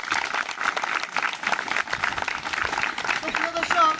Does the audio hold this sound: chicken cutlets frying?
no